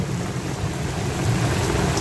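Heavy rain pours down in Bangalore, a dense continuous roar of drops drumming steadily, heard close and loud, as if on a vehicle with water streaming over the glass.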